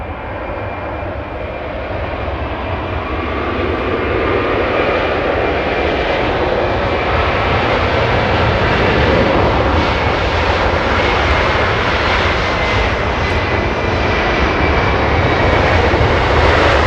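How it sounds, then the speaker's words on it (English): A LATAM airliner with CF6 engines takes off at Los Angeles International Airport, its steady, loud jet roar building and holding broadband and close for the whole span, with no talk over it. "CF6 engines, takeoff,"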